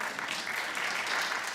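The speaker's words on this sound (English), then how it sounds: "Clap." Brief, fairly quiet burst of clapping from a small audience, steady throughout with no voices over it.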